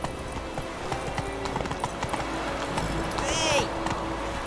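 A horse gallops in the video game The Witcher 3, its rapid clip-clop hoofbeats rolling steadily under a speaking voice, with a brief high whinny-like sound near the end.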